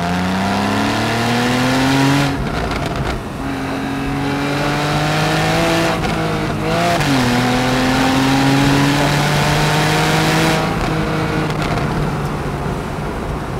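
A Porsche 911 Carrera S (991.1) convertible engine revs up through rising pitch, drops briefly at each gear change, then climbs again, loud and close throughout.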